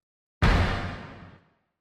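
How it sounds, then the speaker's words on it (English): A massive hit sound-effect sample from a Logic production session: one loud, wide-band boom that strikes suddenly after a short silence and rumbles down over about a second. "It is a massive hit."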